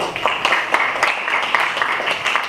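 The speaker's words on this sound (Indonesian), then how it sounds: "Oke, sip, luar biasa, tepuk tangan." A class of students claps together in a school lesson, a brisk, fairly loud patter of hands with no talking over it.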